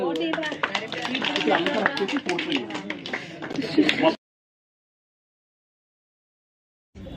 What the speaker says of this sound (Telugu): క్లాప్స్ కొట్టుకోండి.